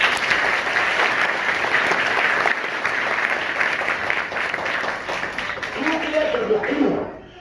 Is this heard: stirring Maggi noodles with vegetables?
no